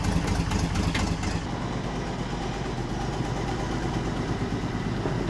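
A car engine runs at a steady idle, an even low rumble with a faint rhythmic pulse, close by and alone after a brief louder burst at the start.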